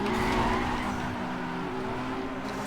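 Nissan 350Z drifting in NFS Underground 2: a sustained, loud tire skid with an engine drone runs unbroken through the whole stretch.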